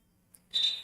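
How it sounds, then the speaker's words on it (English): Referee's whistle at a men's college basketball game against Welch, a single short shrill blast following a faint earlier chirp, heard against quiet arena ambience. "the referee blows his whistle"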